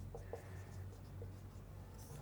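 A math equation being written by hand, the faint scratch of the writing tool coming in short quiet strokes against a soft background hum.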